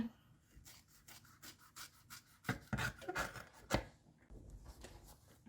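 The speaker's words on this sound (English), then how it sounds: "now I am just gonna trim down that seam allowance" Scissors snipping through the fabric seam allowance of a sewn messenger bag, a run of quiet crisp cuts and rustles close by, alone with no talk.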